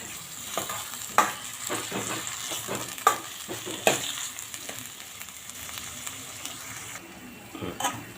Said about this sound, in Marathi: कांदा आणि वाटण आपल्याला छान परतून घ्यायचं आहे